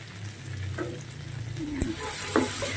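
Red and green chilies frying in a hot pan for fish with tausi and tofu, a continuous close sizzle with occasional sharp clicks and scrapes from stirring.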